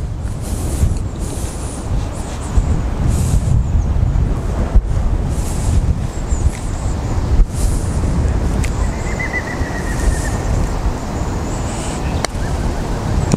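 Wind gusting across an open golf course, a loud continuous rumbling buffet on the microphone with fluctuating surges and no talk.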